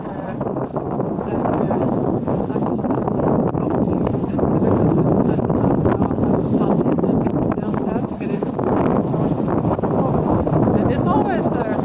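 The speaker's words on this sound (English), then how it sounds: "the wind picked up and the wind angle changed, so now it's getting rough" Strong wind roars steadily across the microphone while a singlehanded sailboat heels through rough water, a dense rushing noise that stays loud and constant throughout with little letup.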